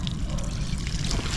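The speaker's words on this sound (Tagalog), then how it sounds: "Lalagyan lang natin uli siya ng tubig" Water is poured back into a container to be reused, making a steady, close trickle and splash that runs unbroken for the whole moment with no talking.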